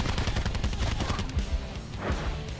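Continuous automatic gunfire from Call of Duty: Black Ops 4 Blackout, a dense, steady rattle of rapid shots at fairly close range with no pause and no talking.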